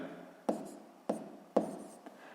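Pen writing math on paper, three or four short scratching strokes, each starting with a sharp tap, close and quiet, with no talk.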